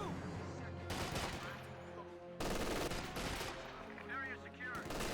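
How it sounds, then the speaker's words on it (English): Bursts of MG42 machine gun fire in the Company of Heroes 2 strategy game, three loud sustained volleys broken by short pauses, with game effects layered over the shooting. "MG42 suppresses the Russian squad with flanking shots"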